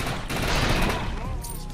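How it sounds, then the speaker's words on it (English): Gunfire in the video game Defiance crackles in rapid bursts, a dense close fusillade of automatic shots that fades toward the end, with a faint voice in the background. "Pepper with gunfire."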